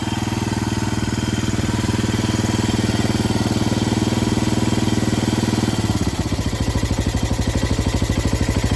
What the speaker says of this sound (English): Listen to that thumping idle. That is beautiful.